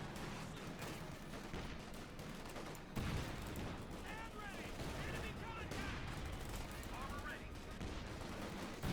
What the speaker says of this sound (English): Scott opening up the Grenadiers, getting some nice hits